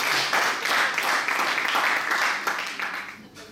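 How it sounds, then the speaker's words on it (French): An audience breaks into applause with a brisk, rippling clatter of hands, with voices mixed in, then the clapping fades away toward the end. "Yahab, s'il vous plaît, applaudissez messieurs Yahab."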